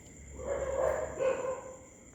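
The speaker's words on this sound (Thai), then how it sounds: "เสียงหมาจะเห่านะได้ยินเสียงหมาเลยนะ" A dog barks a couple of times at a moderate distance at a Thai temple at night, short yelping bursts over a steady background hum.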